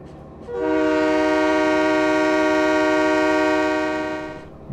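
A train locomotive's horn in Train Mechanic Simulator 2017 blows as one long, steady multi-tone blast over a low rolling engine rumble, then fades away; loud and close, with no talking.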